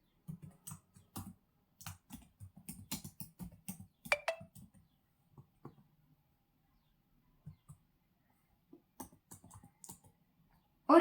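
Keys clack on a computer keyboard as Python if-else code is typed: quiet, close, irregular bursts of keystrokes with short pauses between them.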